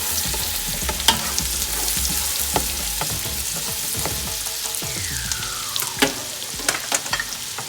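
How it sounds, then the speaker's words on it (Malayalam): Chopped garlic and onion fry in a pan with a steady bright sizzle, punctuated by sharp clinks and scrapes of a utensil stirring, close and without talk. "ഗാർലിക്ക് അരിഞ്ഞു വെച്ചിരുന്നു, അതും ഓനിയനും കൂടെ ചേർക്കാൻ പോവാം."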